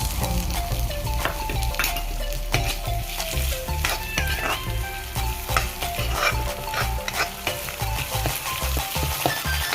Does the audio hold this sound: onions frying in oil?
yes